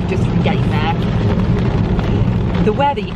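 Blustery wind on a bleak day out in sleety snow, roaring steadily into the microphone as a loud, constant rush with a few faint voices briefly audible beneath it.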